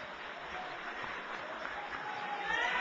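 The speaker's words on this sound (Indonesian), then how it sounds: "Kita semangati dengan tepuk tangan." Debate audience applause fills the hall as a steady, distant wash of clapping, fairly faint and even throughout, with no pauses.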